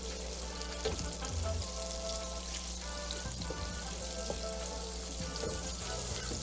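Oil and butter sizzle steadily in a pan during sautéing, a continuous crackling fry with small pops and occasional stirring clatter, close and fairly loud with no talk.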